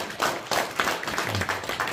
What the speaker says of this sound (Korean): 인사 박수 한번 해주시면 감사하겠습니다